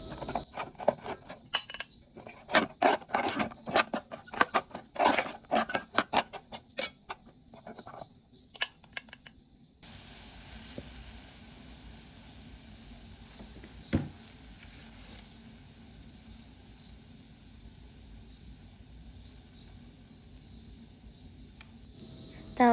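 Chopped onions and carrots sizzle in a pan for spicy noodles, with sharp crackles and scraping stirs at first, then a steadier, quieter frying hiss.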